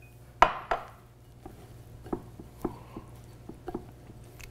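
Breadcrumb stuffing with herbs and caramelised onions is mixed by hand in a bowl, giving a few scattered soft squishes and light taps, quiet and close with no talking.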